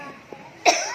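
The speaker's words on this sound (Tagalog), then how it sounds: "Giubo-ubo na ko." A single sharp cough near the end, loud and close, after a quiet stretch with faint background noise.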